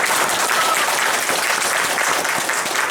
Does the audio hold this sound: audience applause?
yes